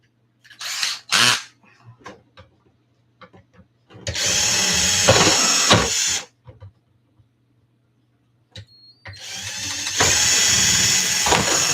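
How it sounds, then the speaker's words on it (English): A power drill bores holes in an ARRMA RC car body in two long loud whirring bursts, each a couple of seconds long, with small clicks and handling noises in the quiet stretches between them. "drilling holes in something they just made beautiful is kind of hard"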